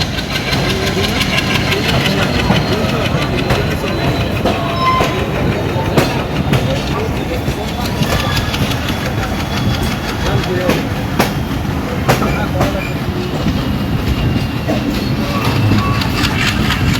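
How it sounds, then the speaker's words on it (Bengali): The Dhaka–Khulna Nakshikatha commuter train runs continuously departing Halsa stop on the Darshana–Jagati section, with a heavy rumble and intermittent rhythmic clacks, while voices talk in the background. "ঢাকা থেকে ছেড়ে আসা খুলনা অভিমুখী নকশিকাথা কমিউটার হালসাই স্টপেজ দিয়ে চাললো"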